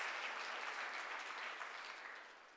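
Audience applause fills a hall at the Meizu m3 note launch event, a dense steady wash of many hands clapping that fades slightly toward the end, heard on its own.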